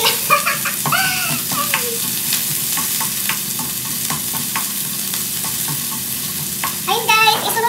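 Garlic fries in hot oil with a steady sizzle and occasional utensil clinks and scrapes, while faint voices and whistle-like squeaks surface in the background.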